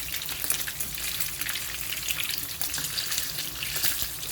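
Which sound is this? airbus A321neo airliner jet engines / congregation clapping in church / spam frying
spam frying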